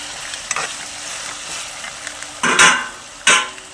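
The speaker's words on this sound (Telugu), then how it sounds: "బాగా కాలుదాం అదే చూడండి రెండు నిమిషాలు బాగా మగ్గిపోయాయండి" Masala for a fish curry sizzles in a pan under a steady low frying hiss, with a few sharp stirring scrapes of a spoon against the pan near the end.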